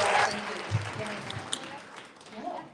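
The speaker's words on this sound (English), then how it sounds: "So round of applause for Julia Mejia for once again supporting our city." Audience applause for Julia Mejia at a live community event, a short burst of clapping that fades quickly beneath a speaker's voice.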